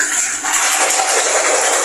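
Water and shampoo sloshed and shaken in a bowl to work up a lather for washing a wig, a steady hissing, splashy wash of liquid lasting throughout, close and fairly loud with no talking.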